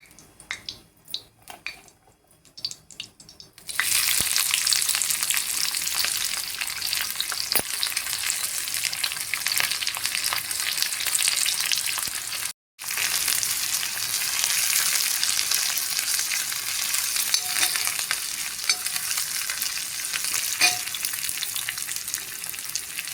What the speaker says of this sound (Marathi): थोडंसं तेल घालायचं आणि तेल तापलं की नंतर मग कांदा घालायचा